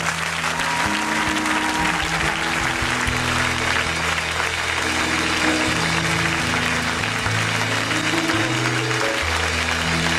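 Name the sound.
church congregation applauding and acclaiming the Lord's name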